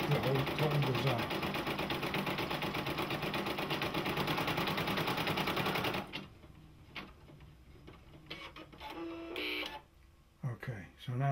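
A Brother embroidery machine stitches a design with a fast, steady mechanical rattle up close for about six seconds, then stops, leaving quieter clicks and handling sounds with a person speaking.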